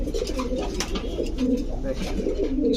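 Pigeons at a pigeon seller's, including Damascene and Bombay breeds, coo repeatedly, close by, their soft throaty calls overlapping in a steady murmur.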